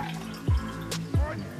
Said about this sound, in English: Let's pour it into the cup just like.